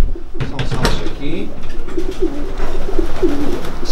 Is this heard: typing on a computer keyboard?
no